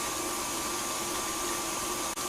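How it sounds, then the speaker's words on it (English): An electric whisk whips meringue for a salted caramel and lemon drizzle cheesecake bake, a steady loud whirring hum running unbroken throughout, with a brief dip near the end. "So I'm whisking this up now to get to a nice meringue."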